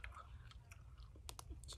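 Close, quiet chewing of Korean dried squid: soft wet mouth sounds and small bites in an irregular rhythm, very near and intimate, with faint breathy noise.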